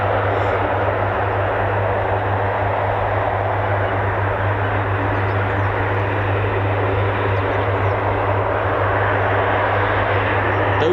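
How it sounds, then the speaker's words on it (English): Loud, steady roar of a US Air Force military aircraft making a short takeoff from runway 10 at an RAF airfield, a constant broadband engine drone with a low hum running unbroken throughout. "Runway 10 in use, and the pilots requested a short takeoff."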